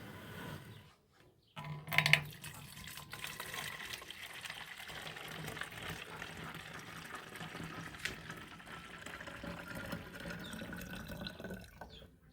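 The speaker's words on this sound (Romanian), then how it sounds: "Vom adăuga apă până la 1 litru, pentru că a secat un pic mușețelul." Water poured into a chamomile infusion for a garden sprayer gives a steady, continuous liquid rush with some dripping, close and moderately loud, after a short gap near the start.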